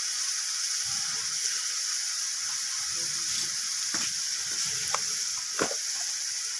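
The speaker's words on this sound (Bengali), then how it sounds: "তো দুটোকেই আমি ভালোভাবে কষিয়ে নিচ্ছি, একটু ভাজা ভাজা করে নিচ্ছি।" Onion paste frying in a pan for a doi katla curry gives a steady bright sizzle, with soft scraping stirs and a few sharp spatters and taps rising above it.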